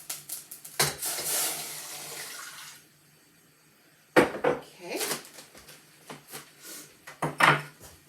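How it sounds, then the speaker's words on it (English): Cold water splashes from a tap into a mixing bowl in a kitchen, a running pour for a couple of seconds, followed by clinks and knocks of bowls and utensils in a quiet room. "And then the water, we'll get the cold water in there."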